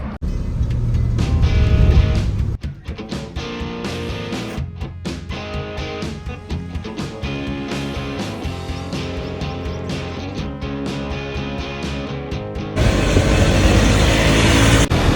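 A Hero Xtreme 250R motorcycle rides at speed, a loud continuous engine and wind roar with shifting revs and gusty buffeting that grows stronger toward the end.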